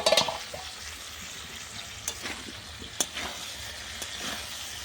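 Vegetables frying and sizzling in a pan over a clay stove, with a loud scrape of stirring at the start, then a steady hiss and occasional sharp clinks of the spatula.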